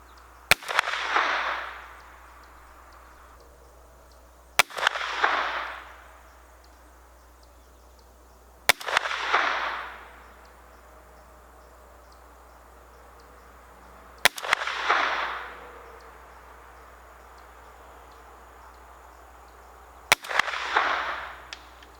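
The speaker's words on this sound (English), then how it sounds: "I went ahead and shot another 5-shot group right there" Five sharp reports from a Savage A22 FVSR .22 semi-automatic rifle fired as a group at a target range, each shot followed by a brief swooshing tail and spaced roughly four to five seconds apart.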